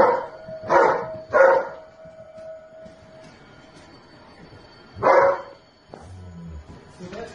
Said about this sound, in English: That dog is not going to attack us in any way.